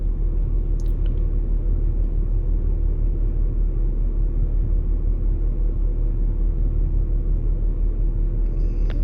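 A 2010 Mercedes E63 with 263k km, its engine held at full accelerator pedal with the throttle staying short of wide open, gives a steady deep rumble at constant loudness throughout, with no talk.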